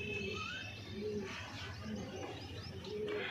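Green Punjabi Malwai pigeons offered for sale coo softly and repeatedly, with light chirps over a steady low background hum.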